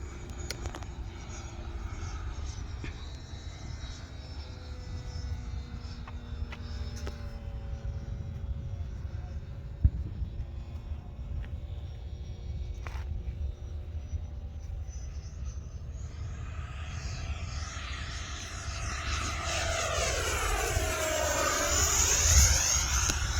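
A Freewing F9F Cougar RC jet, flown with partial flap and a slightly rearward CG, whines steadily as it takes off and flies. The ducted-fan drone swells louder toward the end as it passes close by, with no talk.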